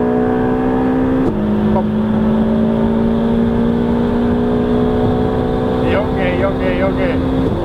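A Ferrari 488 Pista accelerates hard, its loud engine drone rising steadily, with a sharp break near the start where an upshift cuts in. A brief voice is heard over the engine.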